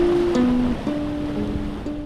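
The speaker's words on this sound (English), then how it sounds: "So this right here is the rock edge that the wave smashes" Ocean waves surge and smash against a normally submerged rock edge below cliffs at Spray Point, a continuous rough wash of surf with wind noise and some tonal whistling over it.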